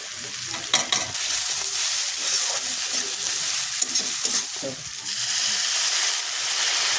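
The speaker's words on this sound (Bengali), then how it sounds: "একটু ভালো করে ভাজা ভাজা করে নেব" Spice masala fries in a pan for egg tadka, a close, steady sizzle with scraping stirs that come and go.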